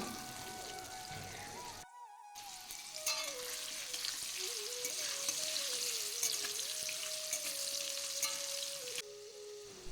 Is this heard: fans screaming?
no